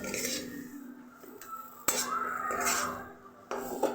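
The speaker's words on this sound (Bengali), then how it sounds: "যতক্ষণ না একটু আরও টাইট হচ্ছে আমি পুরটাকে এইভাবেই নাড়তে থাকবো।" A utensil scrapes and clinks against a pan while thick dal puri lentil filling is stirred, intermittent metallic knocks and scraping, fairly quiet with brief louder strikes.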